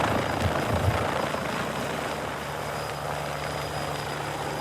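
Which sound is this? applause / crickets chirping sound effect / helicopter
helicopter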